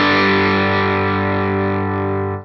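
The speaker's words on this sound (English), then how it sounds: "Bridge pickup Telecaster into a Fender Deluxe Reverb." A single sustained electric guitar chord with crunchy drive from a Telecaster bridge pickup through a Benson preamp pedal into a Fender Deluxe Reverb, ringing out steadily for a couple of seconds before cutting off.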